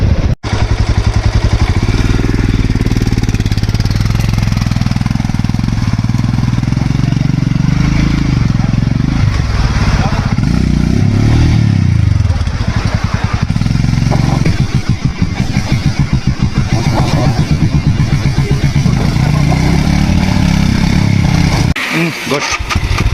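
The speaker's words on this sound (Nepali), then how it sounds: "उकालो माथि माथि बाइक पनि हिँड्नु सकाउँदैन" A motorcycle labouring up a steep, rough off-road hill track, its engine droning loud and close throughout with shifting revs, while a rider's voice talks over it.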